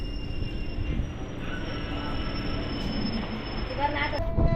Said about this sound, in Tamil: ட்ரெயின் இப்போ உள்ளே என்ட்ராவர் தான் பாலாஜாபாத் ரயில்வே ஸ்டேஷன்